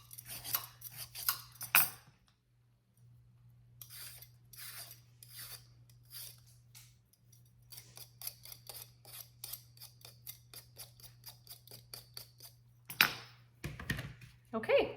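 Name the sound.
peeling potatoes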